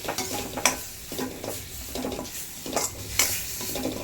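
A thick gravy masala stirred in a pan over a low flame, with soft sizzling and repeated spoon scrapes against the metal coming in a steady rhythm, close and moderately loud with no voices.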